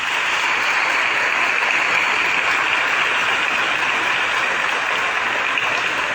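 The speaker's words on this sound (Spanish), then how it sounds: "Aplausos para ellos." A large church crowd applauds in a thick, continuous wash of clapping, loud and even throughout with no voices over it.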